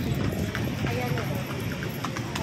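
A horse pulls a kalesa carriage through Intramuros, Manila, with its hooves clip-clopping steadily on the street. The hoofbeats sit under constant talk and busy outdoor noise.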